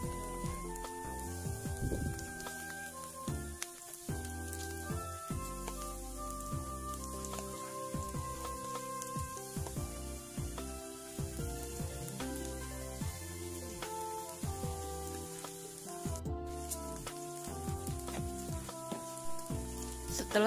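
Chicken pieces fry in hot oil for a simple home-cooked meal, a steady close sizzle and crackle running throughout with scattered pops, with no talk over it.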